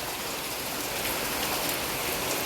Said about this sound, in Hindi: ये देखो कितनी तेज बारिश